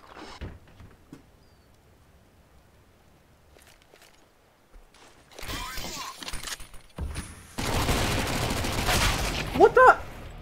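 Video game gunfire starts as faint sporadic pops, then swells into dense bursts of shots with shattering impacts, loud and close near the end.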